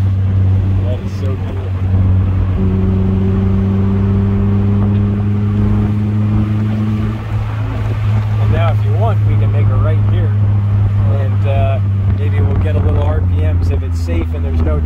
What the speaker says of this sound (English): But man, the only thing I hear is exhaust.